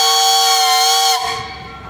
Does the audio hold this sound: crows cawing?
no